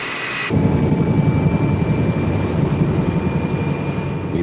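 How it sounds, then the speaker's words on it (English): A military aircraft on a rolling takeoff, a steady loud engine roar that holds on at constant strength after a sudden start, with no voices over it. "we're ready for immediate rolling takeoff."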